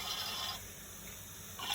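Water rushing into a toy washing machine as it fills, a steady hissing wash that softens in the middle and swells again at the end, heard close and alone.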